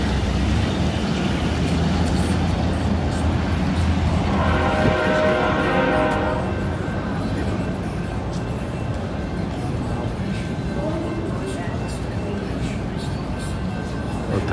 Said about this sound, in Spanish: Los trenes estos son enormes